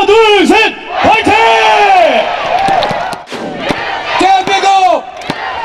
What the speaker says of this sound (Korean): 제가 하나 둘 셋 하면 다 같이 파이팅 크게 외치겠습니다